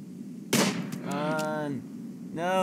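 Gunfire aimed at a bear in the video game RimWorld: one sharp, loud shot bursts out near the start, followed by voices talking and exclaiming over game sounds.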